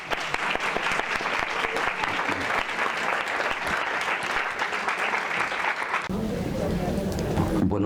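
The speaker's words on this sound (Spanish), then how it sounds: "Un aplauso para Mauro." A conference audience gives sustained applause, dense clapping from a large crowd in a hall that fades near the end.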